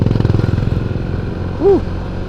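Motorcycle overtaking on a forest road through the Cigugur woods on the Pangandaran–Tasikmalaya route via Puncak Singkup: a close, pulsing engine putter with a brief tonal honk partway through.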